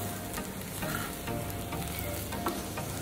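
A poha mixture cooks in a pan while salt is stirred in, a constant dense sizzle with soft, repeated spoon scrapes running through it and no voices.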